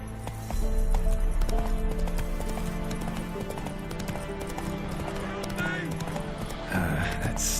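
Roach, Geralt's horse in The Witcher 3, gallops with steady rhythmic clip-clop hoofbeats over a layer of game music and ambience, loud and close throughout, with a brief whinny near the end.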